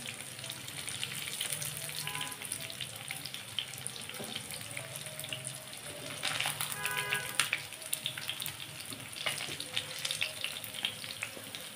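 Chicken pieces for chicken chaap fry in a pan with a steady, fairly quiet hiss and crackle, swelling briefly with louder sputtering midway through.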